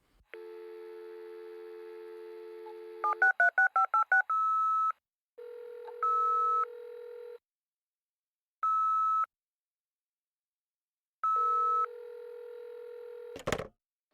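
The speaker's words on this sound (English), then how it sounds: "Eventually, we spoke to Luke Charizard over an encrypted phone call" A telephone line for an encrypted call: a steady dial tone, a quick run of keypad tones, then repeated ringback or beeping pulses separated by silence, ending in a crackly click as the call connects.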